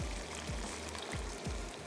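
A small amount of water, about two to three tablespoons, is poured into a cooking pot of masala chana curry, giving a steady, close pouring and trickling sound that runs through most of the moment.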